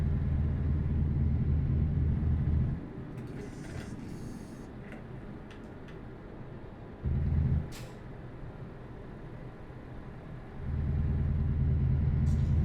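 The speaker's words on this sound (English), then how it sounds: "The engine sounds on it are fairly standard" Heavy truck engine in Euro Truck Simulator 2, driving mountain roads in Peru; a steady low rumble that drops back to a quieter drone midway, with a brief surge and a return to full loudness near the end.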